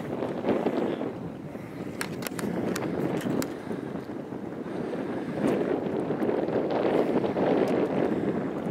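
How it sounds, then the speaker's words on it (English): Wind blows outdoors during a fishing outing, a steady, fairly loud broadband rush that gusts stronger toward the end, with a few faint clicks and no talking. "That wind's really picking up."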